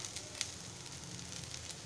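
Okra stir-frying in a pan, a faint, even sizzle with light crackles and one small clink of a spatula.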